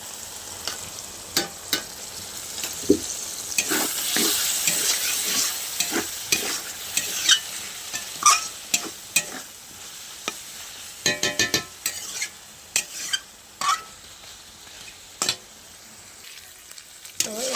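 A spice paste loosened with a little water is stir-fried in a pan, a continuous close sizzle with frequent rhythmic spoon scrapes and taps, including a quick burst of rapid scraping partway through.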